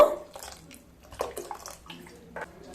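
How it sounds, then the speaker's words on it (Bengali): Water goes little by little into a batter of boiled rice, salt and sugar for chakli pitha. Short trickles and gentle splashes come in a few quick bursts, close and fairly quiet. "এবার অল্প অল্প জল দিয়ে একটা স্মুথ ব্যাটার রেডি করে নেব।"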